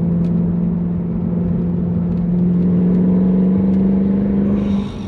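A Mercedes W204 C63 AMG engine drones loudly at steady high revs from inside the car, a strong constant tone that rises slightly before easing off near the end.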